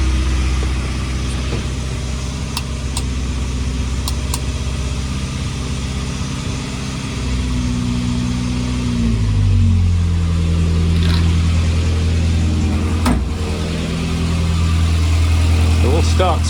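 A Morris Minor car engine runs at a steady, loud idle up close, with a low throbbing rumble whose pitch shifts slightly as it settles; voices are heard around it.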